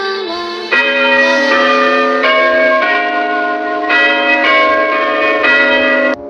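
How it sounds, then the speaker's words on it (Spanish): A school dismissal bell rings loudly and repeatedly with bright, sustained metallic tones that overlap continuously for several seconds. "Después sonó la campana de salida."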